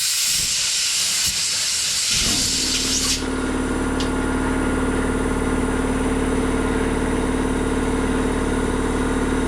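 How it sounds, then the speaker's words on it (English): A noisy air compressor gives a loud, continuous hiss that shifts in tone after a few seconds and then holds steady and close, with no talking. "Noisy compressor."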